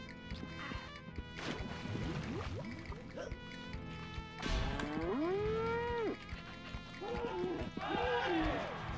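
A cow in the video game Conker's Bad Fur Day moos loudly several times in long, bending calls, mixed with splashy effects and voice sounds.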